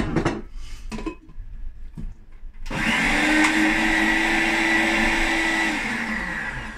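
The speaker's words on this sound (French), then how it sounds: "il suffit d'arrêter le blender et de pousser avec une cuillère pour que le mélange" A home blender starts up and runs steadily, whirring loudly as it purées raw parsley into a spread with olive oil, after a few quieter kitchen clatters and knocks.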